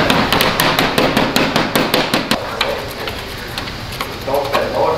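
A flathead screwdriver jabs repeatedly into clear bra paint protection film on a car, giving a fast run of loud, close, sharp taps that stops partway, followed by a few softer knocks.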